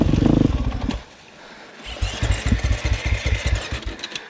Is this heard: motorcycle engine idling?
yes